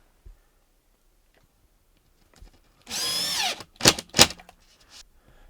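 Cordless drill driving screws into drywall in a quiet room, one sustained whirring burst followed by two short sharp pulses, with faint taps around them.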